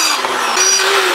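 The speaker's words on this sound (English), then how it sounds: "So go ahead and punch these out to the next size up of the drill bits." A power drill bores out bolt holes for a dirt bike seat handle, a loud, steady whine that holds for about a second before cutting off.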